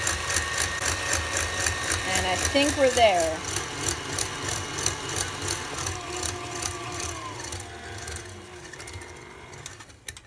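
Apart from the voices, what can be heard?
electric mixer whisking salted caramel frosting at high speed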